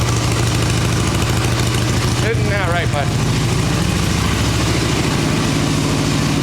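An '89 Harley-Davidson Ultra Classic with an Evo engine idles steadily on full choke, a continuous low throb running throughout, while someone speaks briefly over it partway through.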